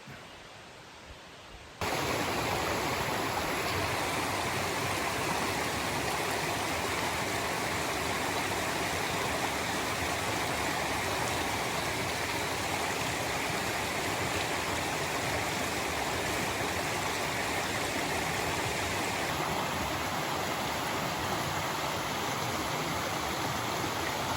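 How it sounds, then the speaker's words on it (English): A small mountain creek on a long-distance trail hike, its steady rushing flow loud and close for the whole stretch after a brief quieter start, with no voices. "Walking upstream along that little creek that I just crossed over."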